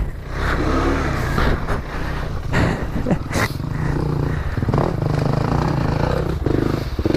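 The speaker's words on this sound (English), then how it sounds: "Oh no, I've got bikes coming." Trail motorcycles pass along a UK green lane, a loud, steady engine roar filling the clip with rising revs and clattering from the machines going by close at hand.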